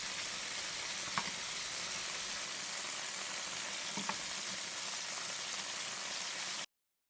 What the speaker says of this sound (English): We're going to let the lobster cook for about the same 3 to 4 minutes on that side.